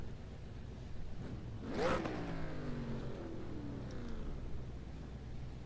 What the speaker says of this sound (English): I should turn down my engine noise